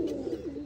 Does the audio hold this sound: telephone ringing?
no